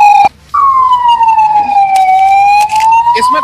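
An ambulance carrying a critical patient sounds its siren at a national highway toll plaza, a loud, close, continuous wail that rises and falls after a brief break near the start.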